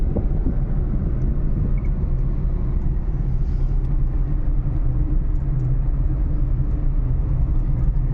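A car speeds along a road near the Panchet Dam at full speed in Purulia, giving a steady, loud, continuous low rumble of engine and road noise with no break.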